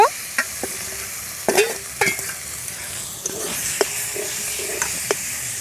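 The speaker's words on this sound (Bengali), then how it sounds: "মশলাটা কষানো হয়ে গেছে, দিয়ে দিচ্ছি মাংস।" Chicken meat drops into a pan of fried cumin spice paste and sizzles with a steady hiss, while a spoon scrapes and stirs in intermittent sharp clanks, close up.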